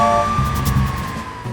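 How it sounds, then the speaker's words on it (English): A cartoon police car siren wails loudly with a steady electronic tone that slowly falls in pitch, alongside a low engine rumble and no voices. "a police car is a motor vehicle used by the police"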